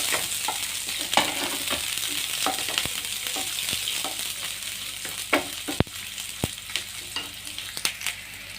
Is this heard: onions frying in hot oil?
yes